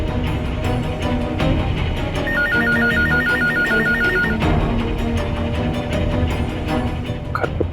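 A landline telephone rings unanswered in a home, its electronic trill repeating in steady bursts over a background of music and room noise, with no one picking up.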